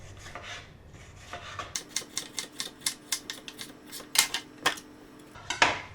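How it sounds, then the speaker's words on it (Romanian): A knife cuts a red bell pepper into strips on a cutting board, giving about a dozen crisp, evenly spaced chopping taps, close and fairly quiet, with no talk. "Gogoșarul îl tăiem în fășii."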